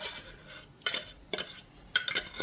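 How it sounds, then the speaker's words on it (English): A knife chopping jumbo lump salmon for patties, three or four crisp, close chops spaced about half a second apart against a quiet kitchen background. "So I'm just going to chop up those lumps just a little bit"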